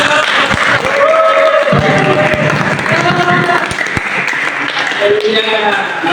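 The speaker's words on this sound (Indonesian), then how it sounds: "Tepuk tangan." A church youth group at an outbound retreat claps in a lively round, with voices and cheering woven through the steady applause.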